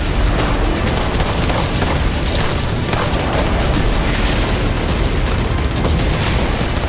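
Explosions in a war zone in Ukraine or Gaza, heard as a dense, continuous roar of blasts and rumbling with no clear gaps, loud and close throughout.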